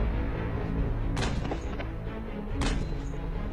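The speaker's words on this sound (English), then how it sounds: "And this is shooting." Saudi special forces gunfire plays back from a video, two sharp booming shots about a second and a half apart over a dense continuous background of music or rumble, with no talking.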